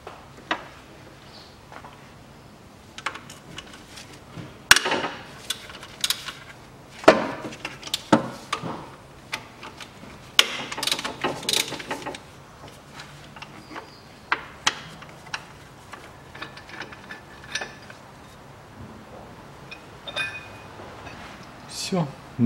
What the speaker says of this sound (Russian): Ну что, снимаем этот кронштейн. Два болта, головка на 14.